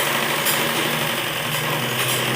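A sewing machine runs continuously while double-stitching the seat seams of palazzo trousers, a fast even motor whir with rapid needle clatter throughout.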